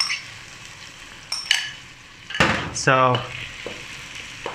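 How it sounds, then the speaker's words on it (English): Shallots dropped into slightly warm oil in a wok, a sudden burst of sizzling and clatter followed by a quieter fry, with a brief spoken word. "get some oil in the wok or pan. It's slightly warm already. So shallot goes in."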